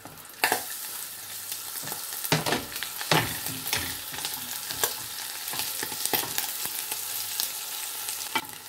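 Onion sizzles and crackles steadily in hot melted lard on a gas stove, with occasional scraping and stirring knocks from a utensil in the pan, close and continuous.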